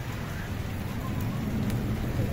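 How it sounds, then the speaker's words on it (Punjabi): Rain falls steadily under heavy clouds in a rural village, a continuous even hiss that stays at a constant moderate level throughout. "ਬਾਰਿਸ਼ ਜਿਹੜੀ ਨਾ ਸ਼ੁਰੂ ਹੋ ਗਈ ਹੈ।"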